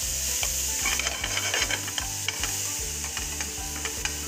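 Onion being lightly sautéed in a pan, a loud close sizzle with rhythmic scraping strokes of a spatula repeating about every half second, no speech.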